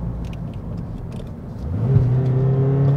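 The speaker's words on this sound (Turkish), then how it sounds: "vites düşür gaza bas." A 2016 Renault Megane 1.6 dCi GT-Line diesel engine, close and steady, rumbles low, then rises in pitch and loudness as it revs after a downshift, ending in a sustained climbing drone.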